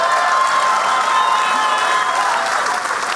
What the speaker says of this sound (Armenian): հայերին բարձր ծափարենք,